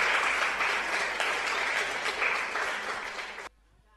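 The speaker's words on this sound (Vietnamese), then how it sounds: "xin cảm ơn tấm chân tình những tràng vỗ tay" A live audience applauds after a singer's tân cổ vocal performance, dense sustained clapping that holds steady for a few seconds and then stops abruptly, leaving near silence.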